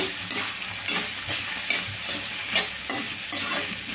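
Small pieces of ivy gourd sizzle as they fry in a pan, and a spatula scrapes them around in regular rhythmic strokes about every half second, close and clear with no talking.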